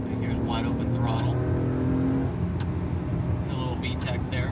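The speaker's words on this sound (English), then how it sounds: "you should be able to hear that exhaust. Here's wide open throttle." A 2001-era Acura CL Type-S with a Comptech muffler pulls at wide open throttle, a rising engine and exhaust drone heard from inside the car with a steady harmonic climb under road noise.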